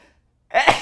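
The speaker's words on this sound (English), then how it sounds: "That's my sneeze." A single sharp human sneeze bursts out loud and close after a moment of near silence, with a brief intake leading into the explosive release.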